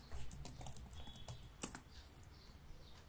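Faint, quick keyboard typing on a Windows 10 computer, a short run of soft clicks with one slightly sharper key press, heard alone.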